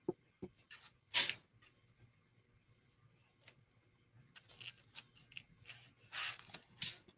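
Scissors cut through ribbon in quiet, close snips and crisp slicing strokes, spaced between stretches of near-silence, with a cluster of quick cuts near the end.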